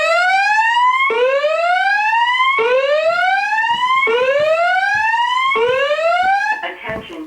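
Building fire alarm sounding during a home system test: five loud, identical rising electronic sweeps repeating about once a second, each restarting abruptly, with the tone cutting off near the end into brief noise.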